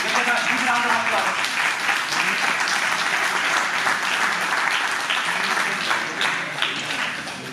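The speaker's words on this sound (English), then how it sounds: "give a big round of applause" Audience applause for participants called up to collect certificates at a Delhi University graduate scholars' talk series event, steady dense clapping filling the hall throughout and easing slightly toward the end.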